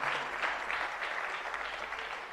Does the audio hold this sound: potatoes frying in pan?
no